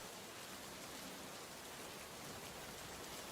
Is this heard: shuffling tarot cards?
no